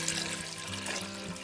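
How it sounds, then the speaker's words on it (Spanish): Water pours from a tap into a pot of potatoes for cooking, a continuous soft splashing rush with a slight rising gurgle as the pot fills, heard alone at a quiet level. "y le voy a agregar agua para cocerlas."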